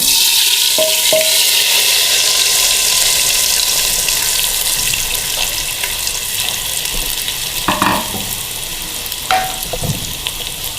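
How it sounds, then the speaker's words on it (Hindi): Steady loud sizzling of cumin, garlic and spices tempering in hot oil for sarson da saag, with occasional clinks and stirring sounds near the end. "अब तड़का लगा लेते हैं"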